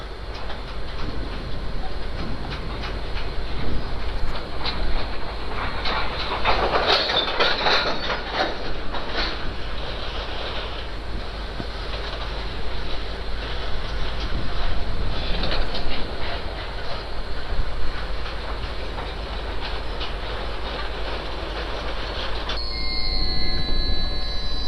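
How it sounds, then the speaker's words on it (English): A train rolls past on the Vijayawada bypass line, a loud, continuous rumble with rhythmic clickety-clack of wheels over rail joints and occasional wheel squeal, sustained close by for the whole stretch. "I guess it's the train."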